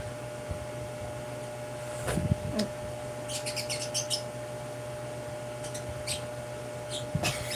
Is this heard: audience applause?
no